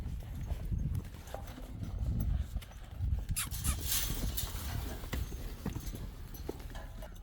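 Horse hooves clip-clop on the ground in an uneven walking rhythm, close and moderately loud, with faint background noise and no clear talking.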